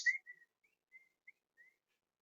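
Person whistling to call breeding lovebirds out: a few faint, short, high whistled notes spaced irregularly over about two seconds, with no talking.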